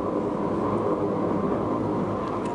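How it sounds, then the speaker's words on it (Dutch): A train rolls through a station near Lelystad-Zuid without stopping, a steady, fairly loud rumble and rush that holds evenly for a few seconds with no voices over it. "Dus er rijden treinen voorbij, maar die stoppen niet."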